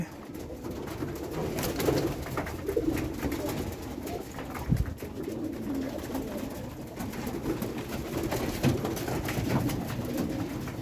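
In a loft holding chicks and eggs, pigeons coo in a continuous low, throaty murmur with overlapping calls. The cooing is soft and steady throughout, with no talking.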